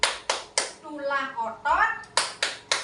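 Hands clap sharply three times, a woman chants words of a children's clapping song in between, then three more crisp claps close by in steady rhythm.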